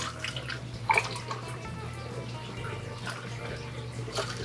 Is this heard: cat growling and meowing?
no